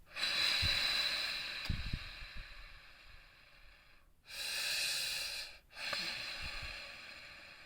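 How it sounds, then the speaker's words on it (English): A person takes a couple of slow, deep breaths close to the microphone, each long airy inhale and exhale followed by a brief pause. "I suggest taking a couple deep breaths"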